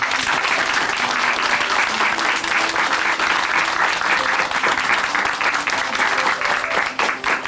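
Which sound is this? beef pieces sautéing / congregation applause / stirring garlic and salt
congregation applause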